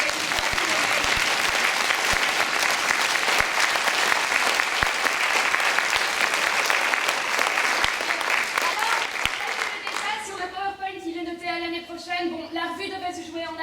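A school revue audience applauds loudly and continuously for several seconds, a dense wash of clapping that thins out near the end as a voice begins speaking over it.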